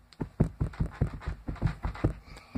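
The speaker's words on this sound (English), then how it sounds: "Hey, everyone stomp your feet." Children stomp their feet at a classroom song-day session, making a steady run of dull, low thuds about five per second, close and moderately loud with no talking.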